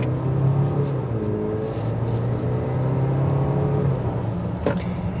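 A 2025 Range Rover Velar Dynamic SE P250 with its 247-horsepower engine pulls away under acceleration, a steady droning engine hum with a rising tone heard from inside the cabin.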